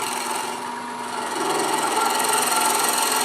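A 3/8 inch swept-back bowl gouge cuts a threaded wooden box with a contrasting insert spinning on a lathe, making a steady, close, continuous hiss and rasp over the motor's hum, growing slightly louder midway.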